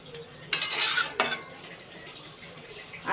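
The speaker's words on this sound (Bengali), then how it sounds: "দুধটা দিয়ে আমার ভালো করে নাড়াচাড়া করে মিশিয়ে নিতে হবে" Shukto in a pot, stirred after milk is poured in: two short bursts of spoon scraping and clinking against the pot, close and fairly loud, then a quiet simmering background.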